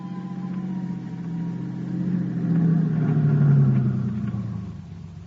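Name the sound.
car driving, radio drama sound effect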